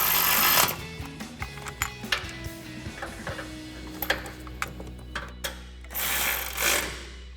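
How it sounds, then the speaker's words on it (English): A ratchet with an 8mm socket tightens an ABS bracket on a 2014-2020 Ford F-150 during a BDS coil-over suspension lift install, giving rapid runs of close, crisp clicking bursts with short pauses between them. "we'll use our 8mm socket to tighten down our ABS bracket"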